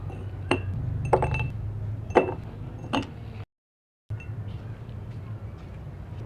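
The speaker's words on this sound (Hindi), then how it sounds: "तो गिलासों में डालेंगे थोड़ा थोड़ा सा बर्फ़" Ice cubes clink and chink into drinking glasses in a home kitchen while cucumber juice is prepared, giving a handful of sharp glassy knocks over a low steady background hum, with a brief dropout of sound.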